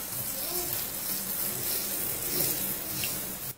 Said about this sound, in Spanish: Ese es el sonido de la exfoliación.